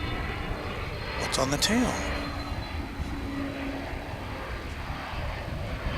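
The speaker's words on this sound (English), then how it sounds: "Here comes Frontier Flight 502 from Denver. Airbus A320." A Frontier Airlines Airbus A320 arriving from Denver approaches to land at DFW airport, its engines a steady, distant roar. People talk nearby and tower radio chatter is heard over it.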